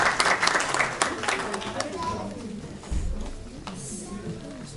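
Scattered clapping from an audience, fading quickly into quieter room noise with a few murmuring voices.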